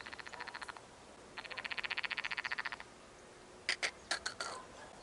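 Frogs croaking at a pond in rapid pulsed trills, two long rattling bursts followed by several shorter croaks, moderately close against a quiet outdoor background.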